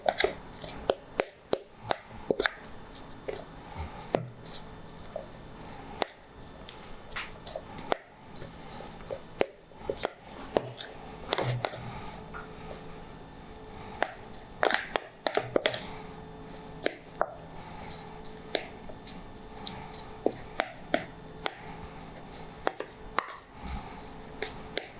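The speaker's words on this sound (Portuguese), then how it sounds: "vou mexer isso aqui, vou trabalhar isso aqui até virar uma massa bem homogênea" Taioba leaves being worked into a thick, dry ravioli filling, with repeated soft squishing, tapping and scraping strokes at an uneven rhythm and faint murmuring at times.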